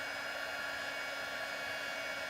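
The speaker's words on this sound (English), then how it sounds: "Now I'll have to put my heat gun on, so you'll hear a noise for a little while" A heat gun blowing hot air to melt Tyvek for bead making gives a steady, even rushing hiss throughout, fairly quiet and unbroken, with no voices.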